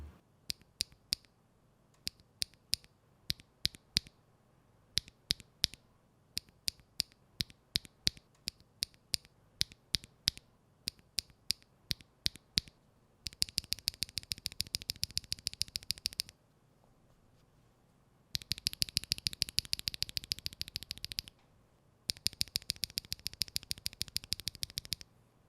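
KTT Hyacinth long-pole mechanical keyboard switches clack in slowed-down, lower-pitched strokes, first as spaced single presses, then in dense bursts of rapid typing separated by brief pauses, close and crisp.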